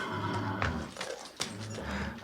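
An old horse whinnies, with a couple of close neighing calls and snorting breaths over a low background rumble.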